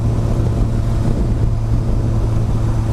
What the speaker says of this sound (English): Oh, you can feel that supercharger really kick in.